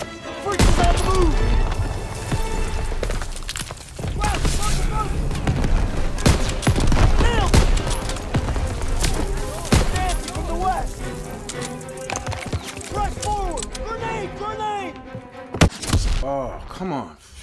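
Soldiers open fire during the D-Day campaign of Call of Duty WWII, a dense and continuous fusillade of close rifle and machine-gun shots mixed with battlefield noise and shouted voices.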